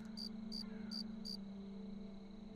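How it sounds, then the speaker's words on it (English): A cricket chirps in a horror video game forest, four short crisp pulses in a quick even row, then a low steady ambient hum carries on alone. "Even the frickin' cricket is loud."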